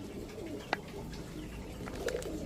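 Soft cooing of a pair of Rampuri pigeons with a couple of brief calls over a steady low background murmur.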